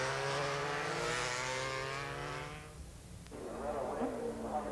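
Superbike motorcycles race at the North West 200 road race, one of them a Norton. A high, strained engine note screams for about three seconds, then drops away as a commentator speaks.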